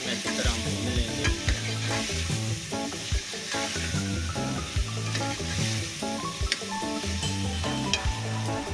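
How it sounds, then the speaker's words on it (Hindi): Potatoes frying in spices in a pot for an aloo karela dish, with steady sizzling and stirring throughout, plus rhythmic clinking scrapes of a utensil against the pot and no talk. "आलू को जो है मसाले में अच्छी तरह भून लेंगे।"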